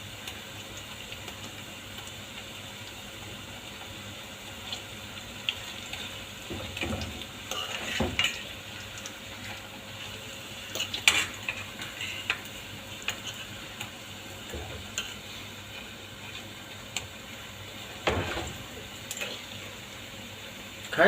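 Pakoras fry in a pan with a steady, moderately loud sizzle, broken now and then by clinks and scraping stirs. No one speaks over the frying.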